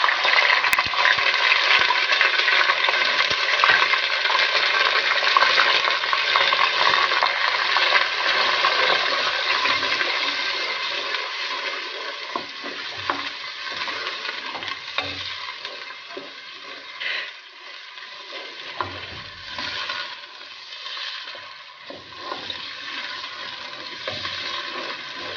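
Onions hitting hot oil with fenugreek seeds give a loud, steady broadband sizzle that holds throughout, easing slightly later with faint stirring clinks, and no talking.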